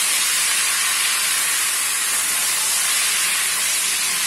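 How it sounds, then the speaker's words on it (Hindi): Chicken fries lightly in a karahi for Shinwari karahi, a loud, steady, broadband hiss and sizzle that holds unchanged throughout with no speech. "चिकन को हम हल्का सा फ्राई करेंगे"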